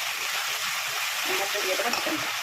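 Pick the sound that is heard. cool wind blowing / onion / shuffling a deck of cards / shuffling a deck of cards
onion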